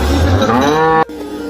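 A cow lets out one loud, close moo at a crowded cattle market before Eid al-Adha, the long call cutting off abruptly into background noise.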